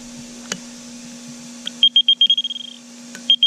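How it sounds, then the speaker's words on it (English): A high electronic alarm buzzer on an aerobic septic tank system beeps in a quick series of short pulses, stops, then beeps twice more, fairly close against a low steady hum. "So the alarm works."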